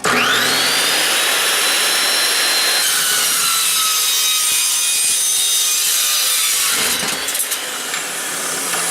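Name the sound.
saw cutting through a 3.5 inch exhaust pipe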